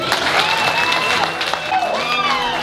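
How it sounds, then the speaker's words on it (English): Off-road charity event audience applauds, a loud, close crowd of clapping hands with a few tonal whistles or squeals threaded through the clatter. "So one big round of applause for you guys"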